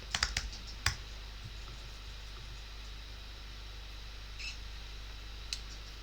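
Typing on a computer keyboard, a quick burst of close, sharp key clicks at the start followed by a few isolated taps over a quiet hum.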